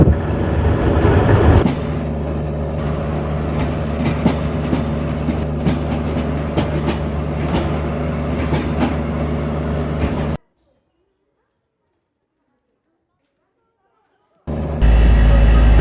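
Train carriages roll along the tracks with a steady rumble and faint rhythmic clatter, heard from inside for about ten seconds before a dropout, then the noise resumes loudly.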